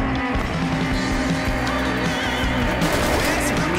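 Racing car engine revving hard in the arcade racing game Onrush, a loud continuous roar with layered engine tones and tyre noise, dense game sound throughout with no talk.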